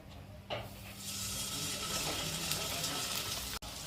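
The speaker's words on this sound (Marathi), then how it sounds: "आपले मोमोज बनवून तयार आहे आता आपण त्याला फ्राय करणार आहोत" Veg momos frying in a pan of hot oil, a steady broadband sizzle that swells after they drop in and holds loud and even, close by, with no talking.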